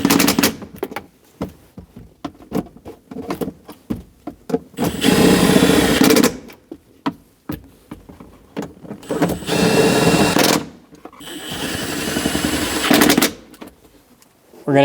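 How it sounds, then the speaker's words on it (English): A power tool snugs down bolts on a Chevrolet Express 2500 van, giving three loud, sustained rattling bursts of one to two seconds each, separated by quieter clicks and handling noise. "Snug the bolts down."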